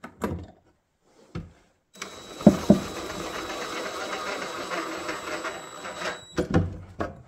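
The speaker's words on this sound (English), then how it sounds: "Now I'm going to screw it into the wall." A power drill drives pocket hole screws through a small wooden shelf into the wall inside a little free library box: one steady, whirring run of several seconds with a couple of short knocks and clicks around it, close by.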